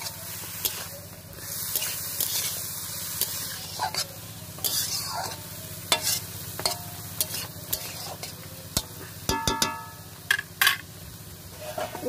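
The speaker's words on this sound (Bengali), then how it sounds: "সব কিছু দিয়ে একটু নাড়াচাড়া করে নিলাম।" A vegetarian chochchori with chili powder is stirred in a frying pan: soft scraping and clacking of a spatula at irregular intervals over a quiet, low sizzle, with a few sharper knocks toward the end and no talking.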